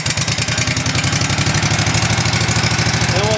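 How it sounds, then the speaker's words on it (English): A duct cleaning machine's engine idles loud and close, its steady, even chugging pulses running throughout with no talk over it. "And we'll let it idle for a minute."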